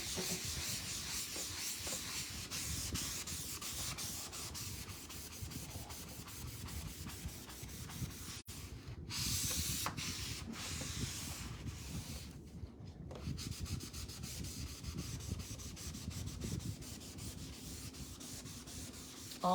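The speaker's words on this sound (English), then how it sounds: "anything that remains is going to be removed by this eraser" Eraser rubbing ghosting off a reusable painting surface, close and steady back-and-forth scrubbing strokes with two brief pauses partway through.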